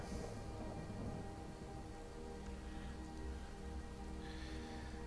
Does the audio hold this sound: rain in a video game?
yes